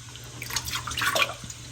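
A marinade of acid, honey, brown sugar and spices is poured into a dish in a home kitchen, giving a brief, close liquid splash and trickle that swells and fades within a second, with no talking.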